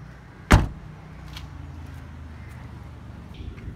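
A 2014 Volkswagen Vento Highline boot lid slams shut in one sharp, loud thump near the start, followed by a quiet, steady background hum.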